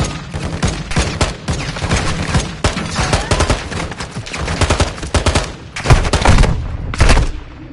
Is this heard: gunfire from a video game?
yes